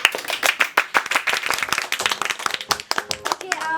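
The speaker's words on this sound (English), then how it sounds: "let's give a round of applause for our guest for today, and that is Alpha, Shanina, and Fatiha." A studio audience claps to welcome the guests onto a talk-show set: brisk, fairly close hand claps with a few voices cheering and talking through it, tapering near the end.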